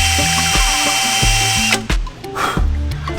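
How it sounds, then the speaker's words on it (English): A power drill drilling out a broken bolt during an LS engine swap whines steadily and close up, its pitch stepping up and down as it bites and eases off, ending with a few short bursts. "we're gonna try and drill that out carefully"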